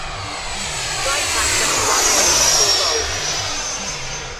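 A Freewing Eurofighter v3 90mm electric ducted-fan RC jet makes a knife edge pass, giving a steady, loud airy whoosh that swells toward the middle and eases off as it flies by.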